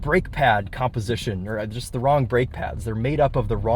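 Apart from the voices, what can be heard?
No everyday noises stand out.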